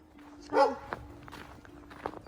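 A single sharp dog bark rings out close by, startling birds, followed by quieter scattered rustling and small knocks in an outdoor setting.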